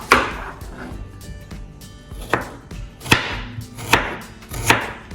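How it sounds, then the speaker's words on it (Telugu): A knife slices an onion into thin pieces on a cutting board while making chilli paneer. Crisp, loud chops land close by at an uneven rhythm, with several sharp strikes standing out above a softer background of cutting. "ఆనియన్ని థిన్ స్లైసెస్ చేసేసుకుందాం"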